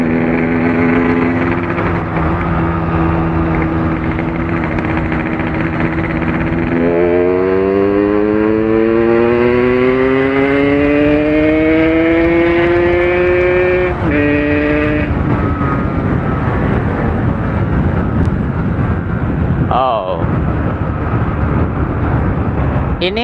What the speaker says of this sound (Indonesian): Jadi suaranya udah menderu banget, tapi motornya masih belum ngebut.